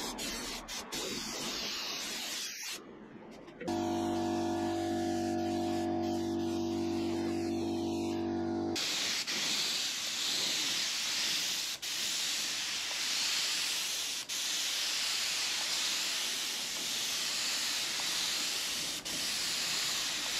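Spray primer goes on in thin coats over a fibreglass bumper part for a VW T5, first as short bursts and then as a long continuous hiss, steady and close.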